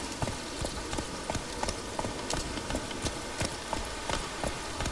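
A horse's hooves clip-clop at a steady walking pace in The Witcher 3, near Velen, each step distinct and fairly close over a soft ambient background.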